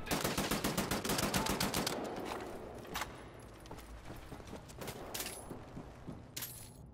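Gunfire in the video game Wolfenstein: The New Order, opening with a loud rapid burst of automatic fire, then scattered single shots and impacts fading into quieter clatter.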